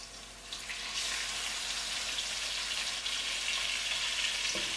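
Cuttlefish tentacles fry in oil with garlic and parsley stems, giving a steady, close hissing sizzle that swells slightly as they hit the pan and then holds evenly.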